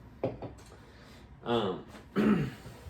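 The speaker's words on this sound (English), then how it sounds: "Coughs happen to everyone." A few short throat-clearing coughs and rough vocal bursts close by, spaced out over quiet background.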